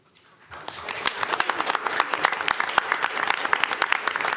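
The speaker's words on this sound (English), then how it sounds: "another big round of applause for all of these amazing folks" A crowd at a school board meeting bursts into applause after a quiet start, steady dense clapping that keeps going at full strength.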